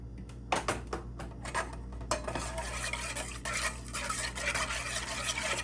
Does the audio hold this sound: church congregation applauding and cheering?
no